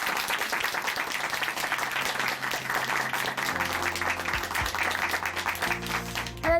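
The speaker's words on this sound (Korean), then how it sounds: "다시 한번 큰 박수 보내드리겠습니다." A Korean church congregation gives sustained applause after a testimony program, a thick, continuous clapping crowd. Sustained low organ or keyboard tones enter partway through and continue under the clapping to the end.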